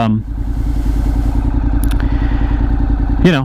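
Motorcycle engine running steadily as the rider sets off, a rapid, even pulsing throb close by, with a brief clatter near the end.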